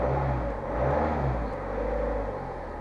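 A Honda 200E engine running just after starting from cranking, a steady close rumble with a gentle rise and fall in revs.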